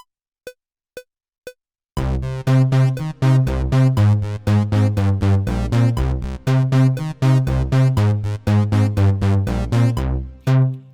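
Three short, isolated synthesizer notes lead into the full layered riff, with bass and lead synth parts looping together in a loud, steady, punchy electronic rhythm.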